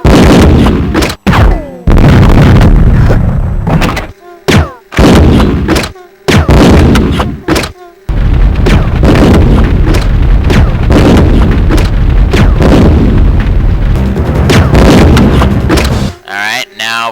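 M79 grenade launcher firing explosive rounds in Resident Evil Code: Veronica X, a series of loud booming shots and blasts in quick succession, with brief gaps between bursts and a sustained roar of explosions through the middle.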